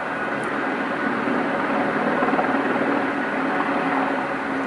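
A helicopter flies over the river in downtown Chicago near Wacker Drive, giving a steady, broad rumbling drone from a moderate distance, constant in level with no talking.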